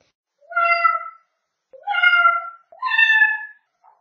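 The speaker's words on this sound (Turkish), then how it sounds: "bahçede minicik sarı bir kedi çıka gelmiş" A small kitten gives three clear, high meows with short pauses between them, close by and otherwise quiet.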